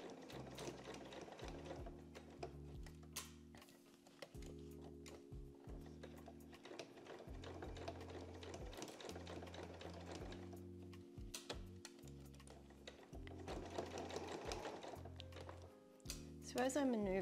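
A sewing machine stitches a bucket hat around its curves, running in repeated rhythmic bursts of rapid ticking with short pauses, under a voice speaking.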